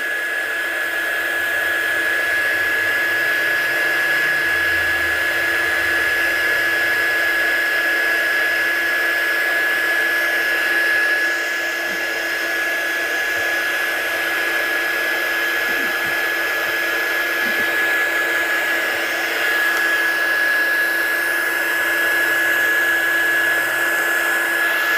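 A hair dryer blows steadily on a craft card coated with embossing powder and dye sprays, giving a loud, constant whirring whine with a fixed pitch that runs the whole time with no voice.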